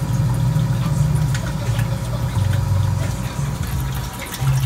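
Hot water running from a hot liquor tank into the mash during fly sparging on a homebrew day, a steady low rushing flow with a faint hum of equipment underneath and no talk.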